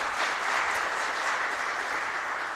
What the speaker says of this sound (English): I want you to give a round of applause to the members of our first panel.